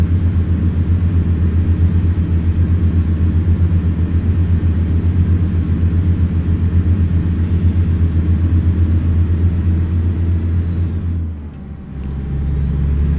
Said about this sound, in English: Bring the volume down on the engine just a little bit.